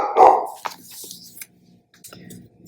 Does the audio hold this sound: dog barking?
yes